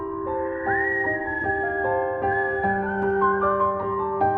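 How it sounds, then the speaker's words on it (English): Eerie whistling comes from the trees in a dark forest: sustained, wavering tones layered over one another and slowly shifting in pitch, clear and fairly loud with no talk over them. "He suddenly heard the sound of whistling from the trees to his right"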